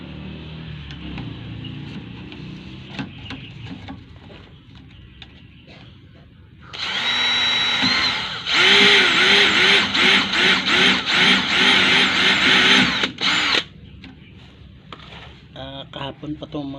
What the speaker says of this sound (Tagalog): Lagyan mo natin talim na maliit mga katami para diretso yung black screw.